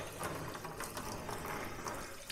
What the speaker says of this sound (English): So then I just put some cold water in there.